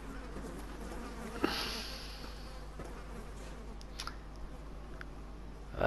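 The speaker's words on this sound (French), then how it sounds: "Ah, mais fuck les mouches." Flies buzz in the horror video game Layers of Fear 2, a steady low insect drone with a few faint clicks, heard alone without talk.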